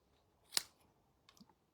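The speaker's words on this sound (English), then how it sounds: "trim that here with the scissors" Scissors trim paper for a handmade window card, giving one sharp, close snip followed by a few softer, quicker cuts about a second later, with quiet surroundings.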